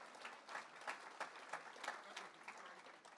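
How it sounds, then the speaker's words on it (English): An audience at an FFA gala dinner applauds steadily for a few seconds, giving even, sustained clapping with no voices over it. "A round of applause for all of our gold sponsors."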